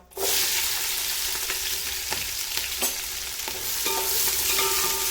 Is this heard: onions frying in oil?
yes